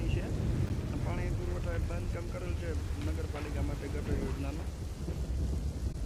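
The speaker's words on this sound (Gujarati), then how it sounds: "કુતિયાણા શહેર અને ગ્રામ્ય વિસ્તારોમાં હાલ જે વરસાદી માહોલ જામેલો જોવા મળી રહ્યો છે" Heavy monsoon rain pours in a steady, loud hiss over Kutiyana, with low thunder rumbling underneath, while a voice talks over the downpour throughout.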